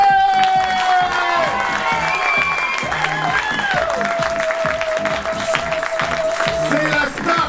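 A theatre audience at a poker event cheers and applauds as a journalist is introduced, loud clapping with shouts and whoops over a backdrop of upbeat music, lively and continuous.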